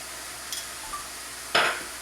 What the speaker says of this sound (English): continue to stir. Let's get that flavor going